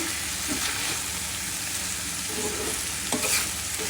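Dried loitta fish and beans are tossed and mixed in a frying pan, giving a steady close sizzle with soft scraping and a few light knocks of the utensil, and no voices.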